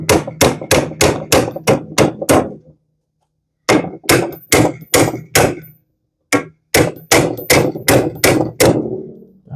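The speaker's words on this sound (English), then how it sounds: "Let me get a hammer." A hammer strikes a 1971 Volkswagen Super Beetle suspension part in rapid metallic blows, three bursts of roughly six to eight hits each, separated by short pauses.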